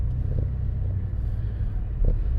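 A truck cruising smoothly with a quiet engine hum and steady low road rumble, heard from inside the cab; a couple of faint bumps or thumps stand out briefly over the continuous drone.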